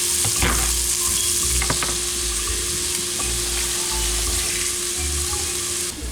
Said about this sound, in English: I'm gonna put a little bit of butter in the pot now. And we'll go ahead and put in the onions that I already have sliced.